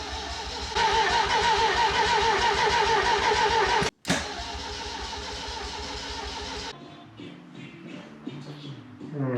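A Triumph TR7 engine cranks loudly and steadily for several seconds without catching, then cuts off abruptly and cranks again, still failing to start, before the sound thins out into quieter mechanical noise.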